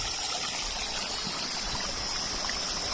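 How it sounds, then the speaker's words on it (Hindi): Water running out from the side of a mountain stream in a Uttarakhand village, a steady close trickling and rushing flow that continues without break, with no talk. "साइड से भी पानी निकल रहा है इसके तो"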